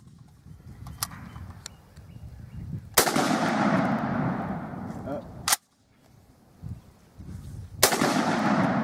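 M1 Garand rifle firing outdoors, sharp loud shots with a long rolling echo and the metallic clack of the action cycling, spaced a few seconds apart.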